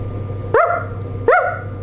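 A person imitates a barking dog with two sharp, close, loud vocal barks spaced under a second apart, over a steady low hum.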